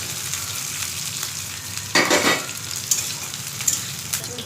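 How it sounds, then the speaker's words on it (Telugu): Curry leaves and green chillies sautéing in oil for homemade cabbage gobi, a soft steady sizzle with a louder crackling burst partway through and a few sharp pops after, close and without talking. "కరివేపాకు పచ్చిమిర్చి వేసుకోవాలి. ఇవన్నీ వేసుకోవాలి. కొంచెం ఆయిల్లో మగ్గించుకోవాలన్నమాట."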